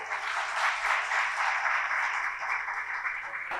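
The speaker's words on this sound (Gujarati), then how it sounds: "એકવાર જોરદાર તાળીઓ તમારા બધા માટે" An audience applauds at a women's Gujarati poetry gathering in Gandhinagar, sustained steady clapping from a crowd that stays even throughout.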